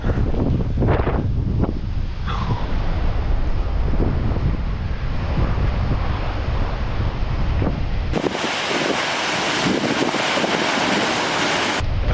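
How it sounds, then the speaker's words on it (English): Stormy ocean surf on a Portugal island roars as a continuous, heavy rumble, with wind buffeting the microphone, then swells into a sudden louder, brighter surge of breaking water for the last few seconds. "all you can hear is the rumble and the roar of the ocean"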